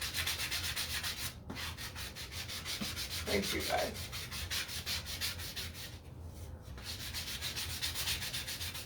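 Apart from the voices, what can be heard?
sanding wood with sanding block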